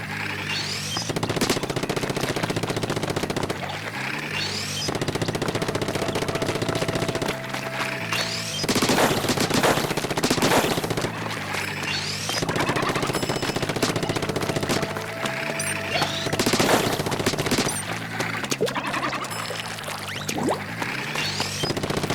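Heavy Splatling Deco firing in Splatoon: long sustained bursts of rapid automatic gunfire, loud and continuous, with brief gaps where it charges or pauses and clattering effects over a steady game-music bed.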